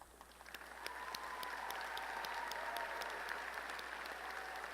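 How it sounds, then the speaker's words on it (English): A large audience applauds master's degree graduates at Lamar University's College of Engineering commencement in May 2018. The steady, even clapping swells in the first second and holds for several seconds from a distance. "Would those receiving master's degrees please stand and receive our applause?"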